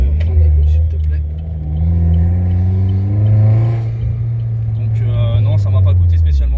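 A modified Opel Corsa track car fitted with a Focus ST engine taken from a scrapyard car drives along, its engine droning loud and close, rising and falling through the revs while someone talks over it.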